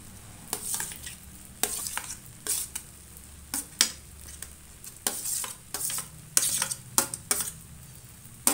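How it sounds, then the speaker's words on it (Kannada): Potatoes stirred into a hot pan for kachori filling, a spoon scraping and clacking against the pan in irregular strokes over a soft background sizzle, close and alone without talk. "ಈ ಟೈಮಲ್ಲಿ ನಾನು ಆಲೂಗಡ್ಡೆ ಸೇರಿಸ್ತೀನಿ."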